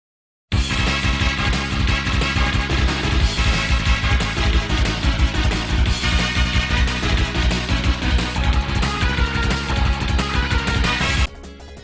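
A loud, busy remix of Mega Man 2 stage music from the Wily Wars version, with driving drums, bass and bright synth lines. It plays continuously, then stops abruptly at the end.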